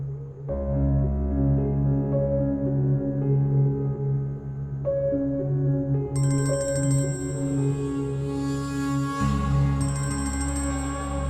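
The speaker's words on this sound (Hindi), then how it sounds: "फरहास मेरी कॉल क्यों नहीं पिक कर रहे?" A phone ringtone plays alone, a melodic electronic tune repeating in phrases over several seconds, fairly loud and close.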